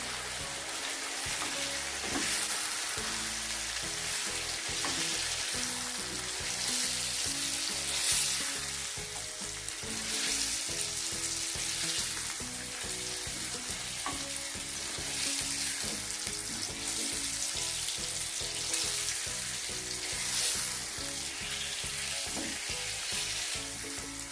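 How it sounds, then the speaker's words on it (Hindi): Chicken handi with yogurt fries in a pot, a steady, dense sizzle and crackle running without a break, close and fairly loud, with faint stirring scrapes and no voices. "हमने इसकी उस वक्त तक भुनाई करेंगे जब तक कि ये योगर्ट का जो पानी है ये बिल्कुल ड्राई ना हो जाए"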